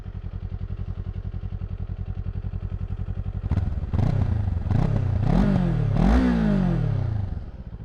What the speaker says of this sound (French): je me suis arrêté pour vous faire écouter un petit peu le son de l'échappement